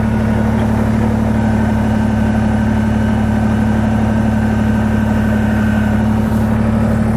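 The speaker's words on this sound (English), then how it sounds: "So I'll get on, start it up, release the park brake," Kubota BX23S compact tractor engine idling and running while backing in, a loud, steady, droning hum with constant low rumble, no speech.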